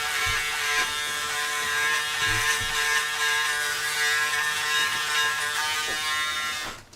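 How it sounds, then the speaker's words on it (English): A Braun Series 7 electric shaver buzzes steadily and close, a continuous high whine touching up stubble after a wet shave, with small shifts in tone as it moves over the skin. "I'm just going to touch up what I missed with the wet shave real quick"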